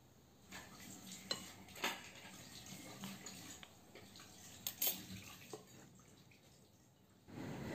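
Salt, pepper, cumin, thyme and olive oil being stirred together in a bowl, with a spoon clinking and scraping intermittently and a few sharper knocks against the dish.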